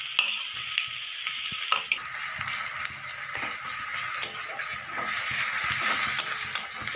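Crushed garlic and chopped onion hit hot oil in a home kitchen, a bright continuous sizzle and crackle with occasional stirring scrapes, loud and close with no talking.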